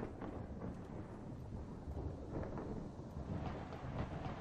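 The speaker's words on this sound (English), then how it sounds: "Can we get the rain to stop?" Rain and thunder in the video game Minecraft form a faint, continuous low rumble with a diffuse rain hiss on top, with no talking over it.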